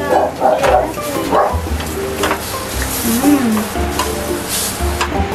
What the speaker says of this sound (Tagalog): Iprito natin ulit yung salagubang.